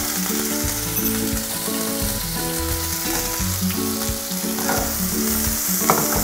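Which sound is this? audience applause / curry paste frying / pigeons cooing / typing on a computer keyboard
curry paste frying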